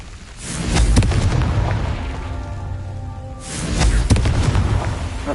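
A Confringo spell in Hogwarts Legacy on PS5 sets off two heavy explosive booms a few seconds apart. Each blast has a whooshing rumble and a crackling tail.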